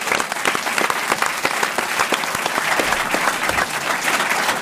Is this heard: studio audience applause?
yes